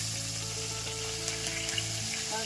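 Koi fish frying lightly in hot oil in a home kitchen, a steady close sizzle with faint crackles and a low background hum, no speech.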